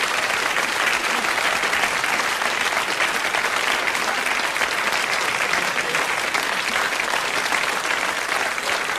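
A studio audience claps through a 1979 British sitcom scene, a steady, dense wash of applause that holds at an even level throughout with no lines spoken over it.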